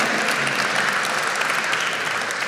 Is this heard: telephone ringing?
no